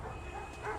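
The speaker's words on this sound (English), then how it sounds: "Oh, that's a big dog." A big chained pit bull gives a single short, fairly faint bark from some distance away.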